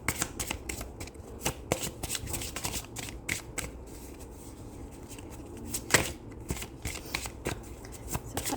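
A deck of oracle cards is shuffled by hand, with repeated crisp riffles and flutters in quick bursts and brief pauses, close and clear.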